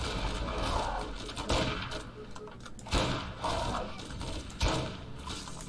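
Gunfire in the video game Borderlands GOTY Enhanced on PC: three or four sharp shots spaced a second or so apart over steady game noise, moderately loud and near.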